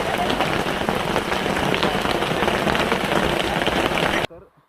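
Heavy rain pours down hard near Sajjangad, a loud dense roar of drops pounding surfaces with strong gusting wind, steady throughout before cutting off abruptly near the end; a voice talks faintly beneath it.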